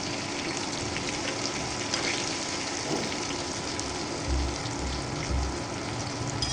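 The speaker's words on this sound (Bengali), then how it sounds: "আমার পেঁয়াজগুলোও ফ্রাই হয়ে গেছে পটলের সাথে।" Onions and stuffed pointed gourd (potol) fry in hot oil with a continuous sizzling hiss close by, joined near the end by a few low knocks.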